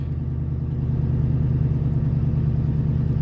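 A 2000 Ford F150 engine idles in park at about 1100 RPM with a steady, low, throbbing rumble and an even pulse, heard close and alone.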